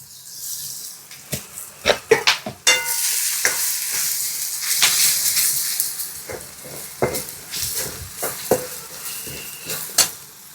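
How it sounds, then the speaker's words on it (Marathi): Chopped spinach frying in oil with chilli powder, turmeric and coriander powder for palak varan cooked on a wood-fired chulha, with a loud sizzle that swells after it goes in, plus repeated clinks and scrapes of a spoon against the pan. "तर पालक मी तेलामध्ये होऊ देते"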